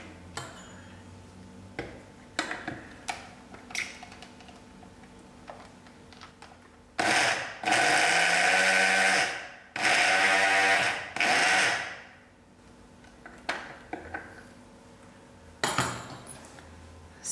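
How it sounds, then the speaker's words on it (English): Coffee grinder blitzing ingredients for burfee, with two loud whirring bursts of a few seconds each, surrounded by light clinks and taps of kitchen handling. "adding tablespoons full to a coffee grinder, and then you will blend this up till it forms like"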